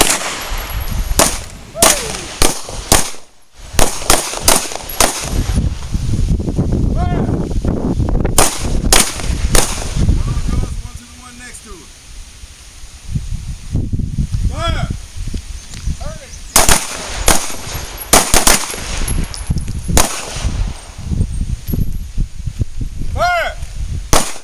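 Pistol gunfire during a combat shooting drill: rapid, loud, sharp shots in clusters, close by, with shouted commands between the volleys.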